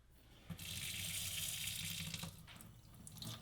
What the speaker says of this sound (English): Then it's time to wash your hands.